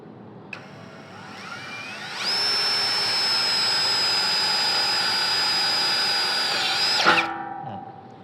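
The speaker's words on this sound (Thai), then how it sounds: "เจาะเสาเหล็กนะครับ ตัวนี้เป็นเสาหนาเสาใหญ่นะครับ" A Masaru SCDI-105 cordless impact drill spins up to a loud, steady high-pitched whine, grinding continuously for several seconds into a thick steel post before winding down abruptly.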